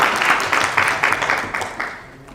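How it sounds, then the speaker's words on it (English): A crowd at an MOU signing ceremony claps for the team in a short, close burst of rhythmic applause that tapers off within a couple of seconds. "A round of applause, first of all,"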